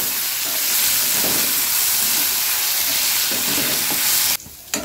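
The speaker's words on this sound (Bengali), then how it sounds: "আলুটাকে আমি এখন ভালো করে ভেজে নেব" Potatoes sizzle loudly in hot oil, a steady crackling hiss that cuts off abruptly near the end.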